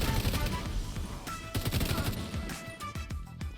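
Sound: gunfire in video game The Division 2

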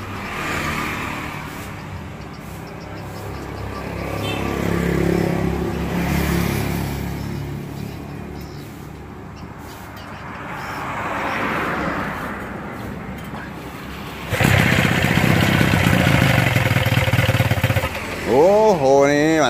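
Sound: Evinrude 12 hp outboard engine running after service

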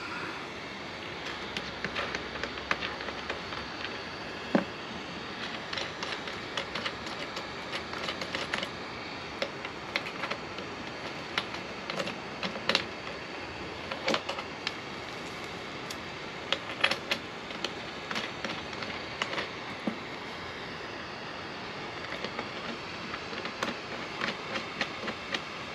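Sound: heat gun shrinking heat-shrink tubing on a battery cable

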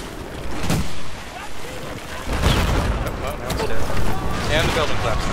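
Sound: building collapsing in Battlefield 4 video game

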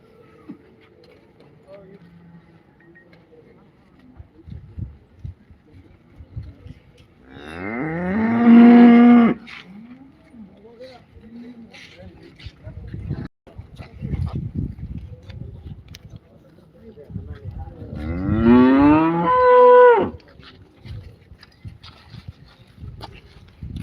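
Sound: cattle mooing at cattle market

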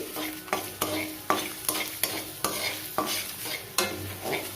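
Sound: stir-frying coriander seeds and crushed garlic in a pan

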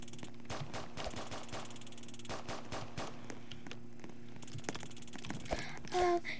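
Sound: gunfire in video game Roblox Prison Life

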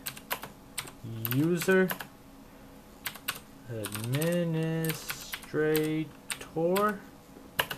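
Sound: typing a command on a computer keyboard

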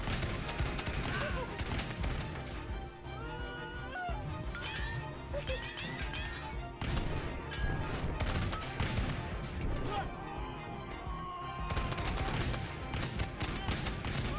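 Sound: musketeers firing guns in Totally Accurate Battle Simulator video game

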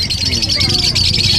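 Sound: pet birds chirping at a Bocaue animal market

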